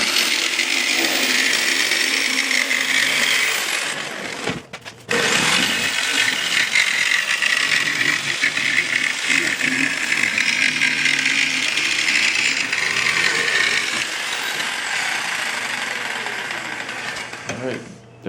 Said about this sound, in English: Just gently push the jigsaw because it's doing all the work